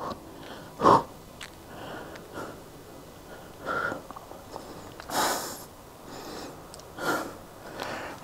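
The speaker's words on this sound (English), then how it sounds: "Exhale." Deep breaths with sharp exhales and sniffs while a bodybuilder holds a side chest pose, several breathy bursts spaced a second or two apart, close and fairly quiet.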